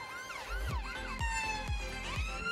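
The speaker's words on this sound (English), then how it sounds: "Oh, the ambulance heading out." An ambulance siren wails with a cycling up-and-down tone, passing by outdoors at moderate distance over a low rumble, steady and continuous with no talk.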